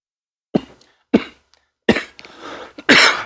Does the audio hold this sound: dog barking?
no